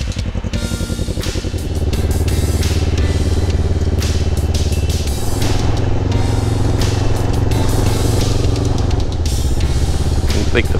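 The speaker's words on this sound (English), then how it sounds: "I think the farmer's coming through with the old Kawasaki." An old Kawasaki motorcycle passes on a farm track near gates, its engine a loud, steady droning buzz with clattering mechanical noise that rises and holds throughout, close by and alone.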